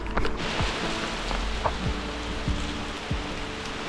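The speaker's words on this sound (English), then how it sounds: "it's starting to rain after all that sun" Steady rain falling outdoors during a trail run along a wall on the Gotaleden trail between Göteborg and Lerum, a continuous broadband hiss with a few low thumps and swishes from movement close by, no talking.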